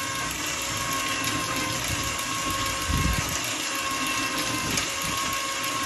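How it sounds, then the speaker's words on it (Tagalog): A homemade water pump driven by an electric motor through a reduced gear runs steadily while building up pressure, a continuous mechanical drone with a brief louder thump around the middle. "Siyempre sa una i-build up muna ng pressure yan."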